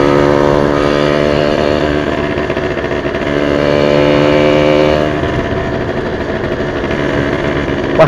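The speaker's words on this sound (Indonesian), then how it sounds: "Wah, motornya kok suaranya tekan-tekan-tekan." A Yamaha V80 two-stroke motorcycle with a racing exhaust buzzes loudly close by, its tone rising as it revs and settling back, with no talk over it.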